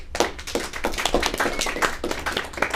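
An audience at a Toastmasters meeting applauds as a speaker comes on stage, a steady run of close, evenly spaced claps, moderately loud, with no voices.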